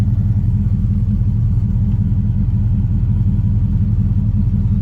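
An LS-swapped third-generation Chevrolet Camaro engine idles steadily up close with a loud, even low rumble and a regular throbbing pulse, unchanging throughout.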